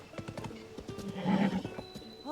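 A horse in Zelda: Tears of the Kingdom whinnies loudly over nearby hoofbeats, a drawn-out neigh rising in the middle after a run of clip-clopping steps.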